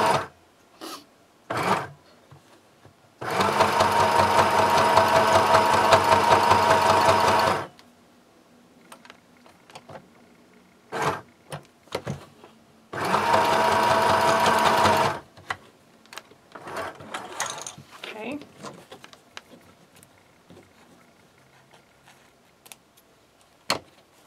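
A sewing machine stitching a tote bag sounds in two steady, close bursts of rapid whirring, each about four seconds long, with quiet clicks and handling noises of fabric and thread between them.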